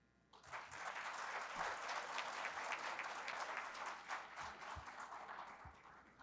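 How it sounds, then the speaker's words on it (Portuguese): Audience applause in a conference hall at the opening session of a professional councils governance congress, a sustained wash of many hands clapping that swells quickly and holds steady before tapering slightly. "Mais uma vez, uma salva de palmas."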